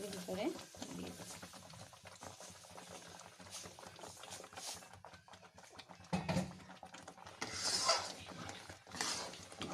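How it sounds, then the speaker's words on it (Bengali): Almond halwa with milk and sugar bubbles in a pan as it is stirred, quiet scraping and liquid simmering with occasional clinks of a spoon against the pan. "দিয়ে এবার নেড়ে নেব"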